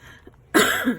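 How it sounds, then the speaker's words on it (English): A single sharp cough comes after a brief quiet moment, close and fairly loud. "excuse the cough."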